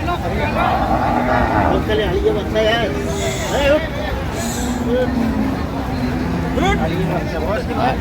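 Dairy cows and calves of an improved breed at Ambari cattle market in Dinajpur, with occasional lowing mixed into a steady crowd hubbub; people talk throughout.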